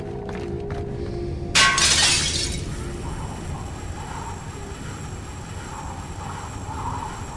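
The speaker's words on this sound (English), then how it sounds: "The only way out is through the glass and fast rope down." Glass shatters loudly in Splinter Cell Blacklist, one sharp crash with a burst of debris lasting about a second, followed by steady ambient rumble of the game scene.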